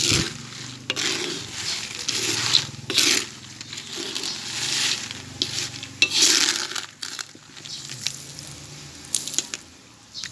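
Peanuts roasting in hot sand in a pan are stirred continuously, producing gritty scraping and rustling swishes in irregular bursts with occasional sharper scrapes, close and fairly loud.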